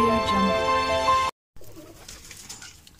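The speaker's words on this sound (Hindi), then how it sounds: "Very high quality pigeon in this channel" A Giribaz pigeon coos briefly, then a short silence, followed by faint, softer cooing under quiet background noise.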